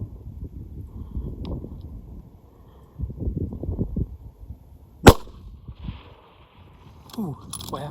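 During a Coues whitetail deer hunt, a single sharp rifle shot cracks out midway, with low hushed talk and wind noise before and after it.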